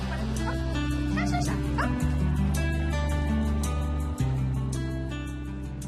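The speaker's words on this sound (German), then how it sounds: "Ihre beiden Hunde, die Ayla und Lisi, sind wichtige Begleiter in ihrem Leben." Two pet dogs, Ayla and Lisi, yip and bark with whimpering in a home in Wädenswil, their short yelps recurring over a steady loud background of music.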